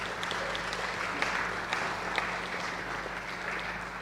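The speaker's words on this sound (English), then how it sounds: "Applause for Todd" Audience applause for a speaker at a tech conference in Brno, a steady moderate patter of many hands clapping that holds evenly from start to finish, with no voices over it.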